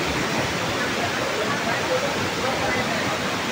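Namaste waterfall in Dhankuta roars as a loud, dense, continuous rush of water close by, steady and unbroken throughout.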